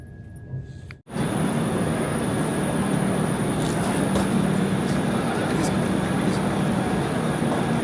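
A train pulls into Tirupati station, rumbling steadily along the tracks with a continuous low roar and faint metallic squeals, loud and close, after a brief moment of quieter sound.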